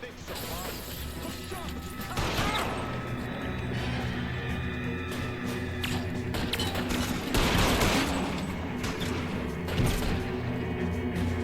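A gunfire shootout rages in the L.A. Noire video game, with dense bursts of shots, crashes and smashing impacts continuing loud and without pause.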